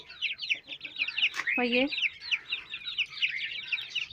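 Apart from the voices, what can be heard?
hen and chicks clucking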